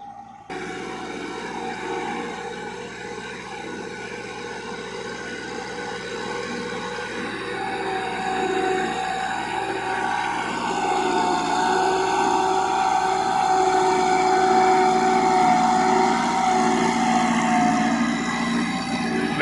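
A Massey Ferguson 375 tractor puddles a muddy rice field in rural Punjab, its engine droning steadily and close throughout, the tone rising and straining slightly as it works through the mud.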